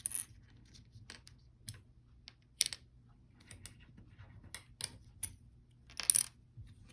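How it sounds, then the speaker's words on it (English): Coins are handled and set down one by one during a counting lesson, giving a string of sharp metallic clinks and taps at irregular intervals, close and clear against a quiet background. "let's count our coins"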